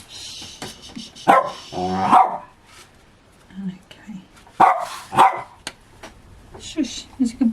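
A dog barks several times in a crafting room, sharp close barks in two bursts with quieter yips between, while a person talks softly nearby.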